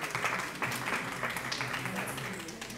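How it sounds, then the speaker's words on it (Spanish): An audience at an anticommunist congress applauds a newly arrived guest, a county commissioner, with a busy crowd clatter of clapping that stays steady and fairly close throughout. "Un aplauso para él"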